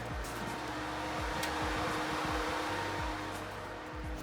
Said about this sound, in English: when I turn the ignition on, I'm gonna switch it, and the fan comes on